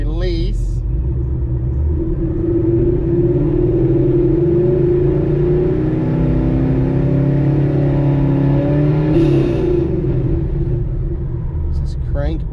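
Ford car engine with a crank sensor misfire fault, revved up during a crank relearn: loud, close engine roar held steadily for several seconds, then dropping back toward idle.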